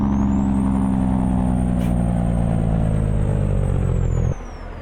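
Custom short-wheelbase Freightliner FLB cab-over semi in American Truck Simulator, its diesel engine droning steadily and loudly with a thick low rumble, then dropping abruptly in level near the end.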